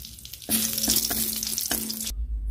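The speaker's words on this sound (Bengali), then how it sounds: "ওই তেলে 2টো শুকনো লঙ্কা ভেজে নেবো।" Two dried red chillies hit hot oil, used earlier for frying pumpkin for sweet pumpkin curry, bursting into a loud, close sizzle that holds for about a second and a half, then stops abruptly.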